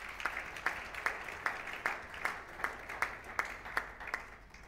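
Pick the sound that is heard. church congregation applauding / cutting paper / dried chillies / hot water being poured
church congregation applauding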